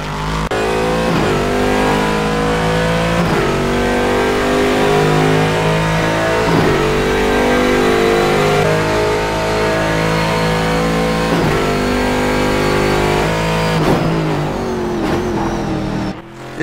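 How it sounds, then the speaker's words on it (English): A Chevrolet Corvette C6.R race car in GT2 configuration with a 6-liter V8 roars loudly in the rFactor 2 racing game, revving up through gears repeatedly with sharp shifts and no talking. "It's a GT2 configuration and has a 6-liter V8, providing 470 brake horsepower."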